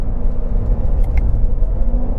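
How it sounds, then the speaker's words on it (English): A 2019 Chevrolet Corvette C7 Z06 running through its factory exhaust, a loud, deep, steady engine rumble heard from inside the car, with no clear rev change over the short stretch. "I really love the factory exhaust system on this car."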